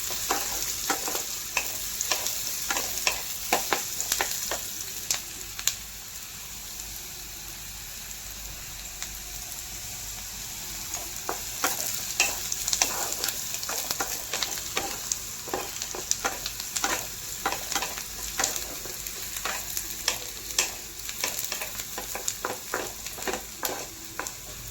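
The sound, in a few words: onions frying in a pan until golden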